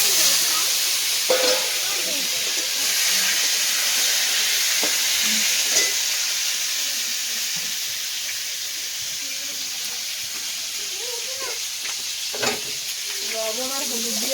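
Potatoes frying in hot oil in a kadai, giving a loud, steady sizzle and hiss with occasional spatters and stirring knocks; quiet voices murmur faintly underneath.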